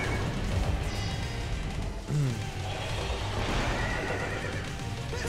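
A bicorn monster in the video game Soul Hackers 2 lets out a loud whinnying neigh midway, a rising and falling horse-like cry over steady game music and effects, with a clip-clop rhythm around it.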